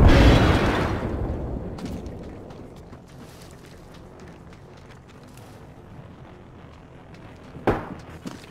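A frag grenade detonates in a squad-based video game shooter, opening with a loud, close boom that rolls off into a long rumbling decay, followed several seconds later by a second sharper, smaller blast.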